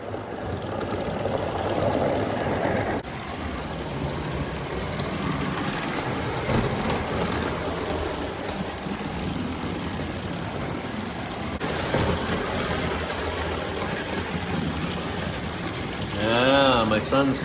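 An O gauge live steam locomotive running on track, a steady mechanical chugging hum that continues through the whole stretch, fairly loud and close, with some outdoor background noise.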